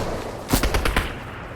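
A quick burst of about five rapid gunshots in Fortnite, close and sharp, fired in an even automatic rhythm over half a second before trailing off into background ambience.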